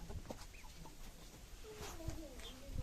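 Chickens cluck in short bursts nearby, with faint background noise and occasional rustling.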